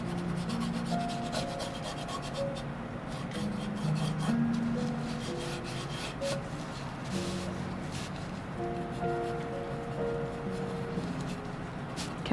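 A paintbrush scrubs paint around on canvas in soft, continuous rubbing strokes, quiet and close, with faint tonal hums in the background and no talking.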